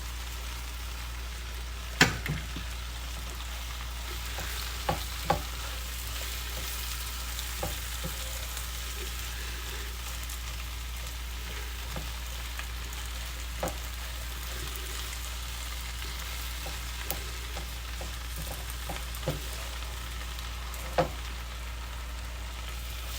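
Spinach with a little salt fries in a pan, giving a steady, low sizzle with a few scattered pops and sharp clicks over a faint constant hum, and no talking.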